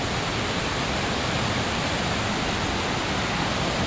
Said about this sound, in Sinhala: වතුර පාර ගොඩක් සැඩ වෙලා